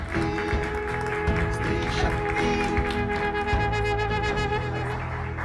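An audience claps in welcome as a guest, Phoolbasan Bai, comes onto a talk-show stage, a steady wash of applause with scattered louder claps and a musical tone playing underneath.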